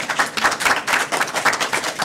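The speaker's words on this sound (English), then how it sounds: "Don't applaud me, applaud my wife" Audience members at a city council meeting clap in a light, uneven burst of applause, steady and moderately loud, with no talking over it.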